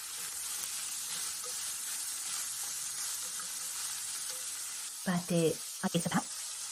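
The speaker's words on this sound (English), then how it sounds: "So once you've heated it to a good extent, add the cabbage at the end." Cabbage stir-frying in a pan with a steady close sizzle and soft stirring, and a person speaks briefly toward the end.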